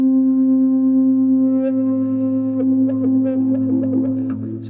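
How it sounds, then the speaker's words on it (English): Electric guitar played through a wah pedal held in the cocked-back position, a sustained nasal, filtered chord ringing steadily before a run of quick picked notes enters in the second half. "So this is the sound of the pedal cocked back."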